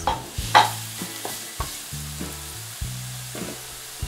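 Lemongrass hits hot oil in a pan over high heat, giving a quiet, steady sizzle broken by repeated scraping strokes of a utensil stirring it, close and with no voices.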